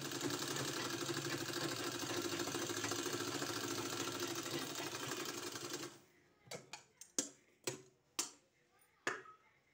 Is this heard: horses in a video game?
no